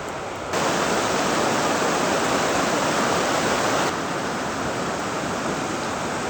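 Swollen river after heavy rain at a bush campsite, a loud steady broadband rush of flowing water that fills the whole clip, alone with no voices.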